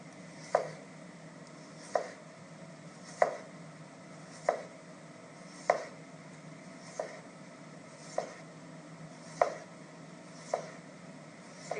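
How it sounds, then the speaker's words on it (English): A knife slicing a cucumber on a cutting board, each cut landing as a crisp tap in a steady, evenly spaced series of about ten, close by against a faint hiss of room noise. "Because of the height of the cucumber, you have to cut off the board and into the board."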